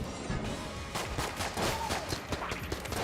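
Rapid automatic bursts from a void rifle in a roguelite game, fairly quiet, with dense overlapping shots and crackling impacts.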